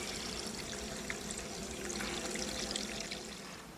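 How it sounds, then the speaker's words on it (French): Cooking water from hard-boiled eggs is poured out of a pan, giving a steady close splashing and trickling wash of water that runs on without a break for several seconds. "versez l'eau de cuisson et rafraîchir"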